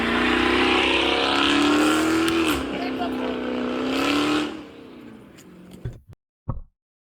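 Dodge Hellcat SRT engine running loud and close with a deep droning roar and a brief rev, then cutting off, followed by a couple of short bumps and knocks.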